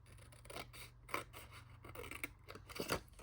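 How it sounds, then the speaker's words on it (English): Scissors snipping paper at an angle for a mini library pocket craft, a few quiet close crisp cuts and rustles heard alone. "I'm going to just snip it like that at an angle"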